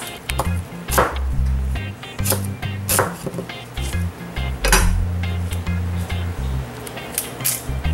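A knife chops red onions finely on a board with quick, uneven taps and knocks, close and fairly loud, while preparing a jicama and pineapple salad.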